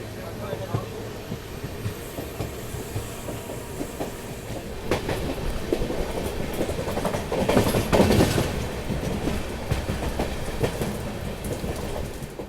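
Diesel locomotive leading a DMU train on a rail route toward a ghat section, with continuous rolling wheel clatter and rumble that swells near the middle, while someone talks over it.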